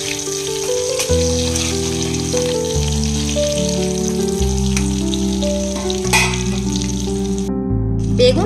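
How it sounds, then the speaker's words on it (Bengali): Eggplant pieces salted with turmeric sizzling in hot oil in a pan, a steady crackling fry heard beneath continuous background music, with no talk. "এরপর আমি বেগুনগুলোকে ভেজে নেব"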